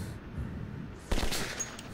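Gunfire aimed at a rope in the shooter Metro 2033: a sharp close shot bursts out after a quiet murmur of background ambience, followed by a short ringing tail.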